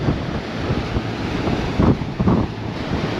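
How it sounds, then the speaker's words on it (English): Strong wind buffets the microphone aboard the Red Jet 7 fast ferry at sea, a dense continuous roar driven by four MTU engines through water jets, with surging gusts and rushing water underneath. "the first thing that hits you is the wind for a start"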